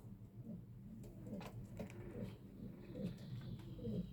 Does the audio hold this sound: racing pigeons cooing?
yes